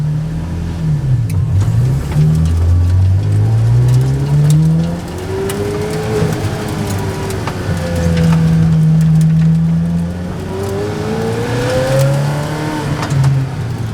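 A straight-piped Ferrari F430 roars loud and close under load, its exhaust tone rising and falling through repeated revving sweeps with a raw, rasping edge throughout.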